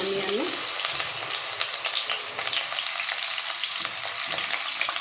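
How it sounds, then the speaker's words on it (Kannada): Onion frying in hot oil in a pan for mutton curry gives a continuous loud sizzle, with occasional stirring scrapes near the start. "ಆನಿಯನ್ ಸಾಫ್ಟ್ ಆಗೋವರೆಗೆ ಫ್ರೈ ಮಾಡ್ಕೋಬೇಕು"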